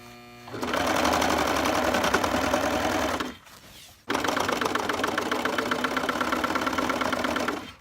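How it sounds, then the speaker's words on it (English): A sewing machine stitching a hem on jeans runs loud and steady in a continuous whir, pauses briefly, then starts up again and keeps running close by. "Pick up your presser foot, put it back down, and go ahead and start sewing."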